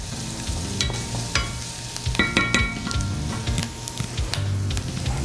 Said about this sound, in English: You want to take care not to burn the garlic since that has the highest sugar content